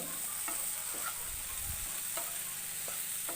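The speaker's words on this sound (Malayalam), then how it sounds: "ഇത് വെളിച്ചെണ്ണയിൽ വേവിച്ചെടുക്കാം." Beans and potatoes cook in hot coconut oil with a steady, close sizzle and hiss, broken by a few soft clicks and scrapes from stirring, with no voices.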